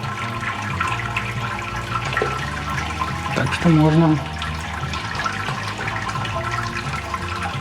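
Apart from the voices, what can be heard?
wort running out of the mash during lautering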